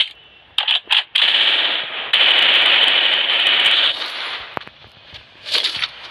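Sustained automatic gunfire from a Free Fire battle royale match, a few short sharp bursts opening into a long continuous loud stream, then trailing into scattered shots.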